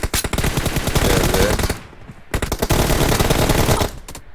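Rapid automatic gunfire in an online multiplayer shooter, two loud sustained bursts of rattling shots separated by a brief pause, close and dominant.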